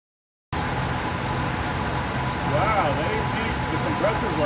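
Buick Roadmaster AC compressor running continuously, a steady mechanical hum and whir starting abruptly after a brief silence, with a person speaking over it at moderate loudness.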